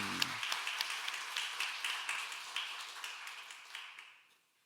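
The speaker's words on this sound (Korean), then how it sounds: "감사와 영광의 박수 올려드리겠습니다" A church congregation gives rhythmic applause during a Sunday morning service, many hands clapping steadily at a moderate distance before fading out near the end.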